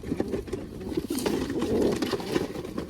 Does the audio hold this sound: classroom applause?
no